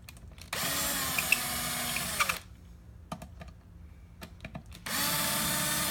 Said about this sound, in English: then we'll use our power screwdriver